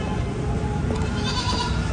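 A goat bleats on a livestock farm, a short wavering call rising out of steady, dense background noise late in the stretch, moderately close.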